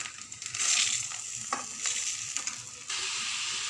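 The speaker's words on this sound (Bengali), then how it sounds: "চালটা দিয়ে দিয়েছি, এবার নাড়াচাড়া করে নেব চাল দিয়ে" Rice for basanti pulao frying in a pan after bay leaf went in, a bright continuous sizzle broken by scraping stirs and a few sharp clicks of the spoon against the pan, close and without talk.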